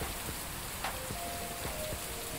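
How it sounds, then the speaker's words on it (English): Steady night rain pours down in a fishing video game, a constant dense hiss of drops with a few soft taps and a faint tonal chime running underneath, and no voices. "Look, it's raining again. Love this rain. Rain in the night."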